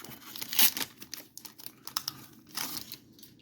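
Close, crisp crinkling and snipping as scissors cut through a foil Magic: The Gathering Spider-Man collector booster pack, in short irregular bursts.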